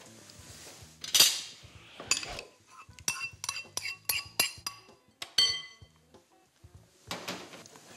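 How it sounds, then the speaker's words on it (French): A utensil clinks and scrapes against a bowl in quick, irregular strokes as mustard is stirred into fromage blanc or yogurt, the sound close and crisp with short pauses between them and no talk. "Alors je vais faire le mélange maintenant."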